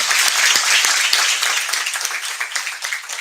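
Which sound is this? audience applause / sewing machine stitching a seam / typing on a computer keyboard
audience applause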